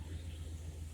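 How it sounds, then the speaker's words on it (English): A Chevrolet Caprice idles outside a repair shop, a low, steady engine rumble with a faint rhythmic throb, heard from a distance through the building. "I don't know if you can hear, we got the Caprice idling outside."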